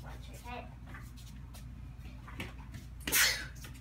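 A single sharp sneeze bursts out near the end during an Easter egg hunt, following a stretch of quiet background shuffling and faint voices.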